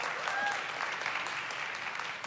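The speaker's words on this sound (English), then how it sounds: "Let's give Nina a round of applause for being here." A festival audience applauds film producer Nina Jacobson at a podcast festival keynote, a dense, even wash of clapping from many hands held at steady volume for a couple of seconds.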